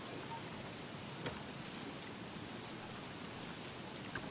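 Steady rain hisses as an even, soft wash of noise in the video game Don't Starve Together, with a couple of faint clicks.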